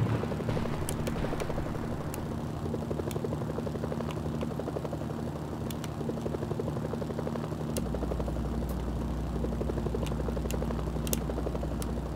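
A video game helicopter drones steadily with a dense rotor chop and engine hum, loud and continuous throughout, with small sharp clicks scattered on top and no voices.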